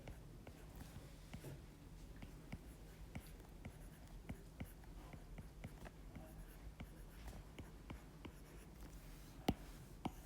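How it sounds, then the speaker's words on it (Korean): A pen scratches and taps across paper or a board while a limit problem on sequences is written out, a close, quiet run of short strokes with one sharper tap near the end. "자, 이거 한번 써볼게요."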